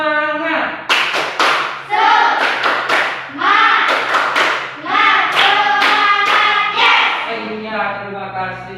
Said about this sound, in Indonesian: Ya, kita mulai. Tepuk semangat.